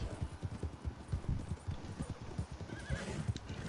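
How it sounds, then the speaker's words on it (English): A slow horse ridden in a video game clip-clops in a fast, steady run of hoofbeats, close and clear, with a brief whinny partway through. "Oh, I got the slow horse here."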